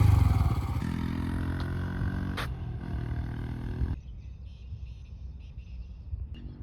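A Honda Hornet 125 motorcycle approaches for a braking test against a Pulsar NS 125, its engine a loud, steady roar that cuts off sharply midway, leaving a quieter, low rumble.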